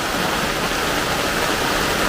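Heavy rain pouring down in Mundakkayam, a dense, steady roar of water with no pauses, loud and close throughout.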